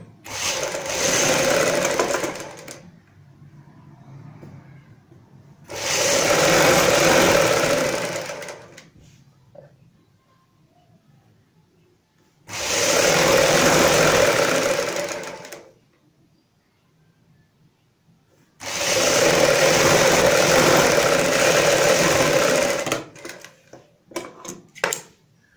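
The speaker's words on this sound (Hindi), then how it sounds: "आधा इंच चौड़ाई वाली सिलाई लगाएंगे" Sewing machine stitching a half-inch seam at the waist of a kurti, running in four steady whirring bursts of several seconds each, separated by near-silent pauses.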